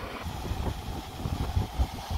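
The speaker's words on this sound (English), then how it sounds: "Sorry about the wind, I got the fan going in the background here." Electric fan running in a room during a Dometic Brisk Air 2 rooftop air conditioner hard start capacitor install, a steady low wind-like rumble and buffeting with no voices.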